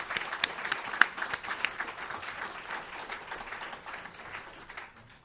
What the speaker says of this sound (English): So how about a round of applause again for both of us?